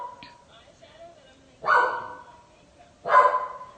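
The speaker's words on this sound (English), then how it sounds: "I'm sorry about my dog barking." A dog barks twice, two sharp loud barks about a second and a half apart, close by, with faint talk and quieter sounds between them.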